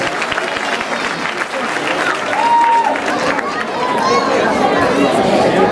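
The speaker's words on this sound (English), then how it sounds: "can we all have a big round of applause for everybody donating?" A round of applause for donors at a Mahaveer Jayanti gathering: steady clapping from the audience, mixed with loud crowd chatter that builds toward the end.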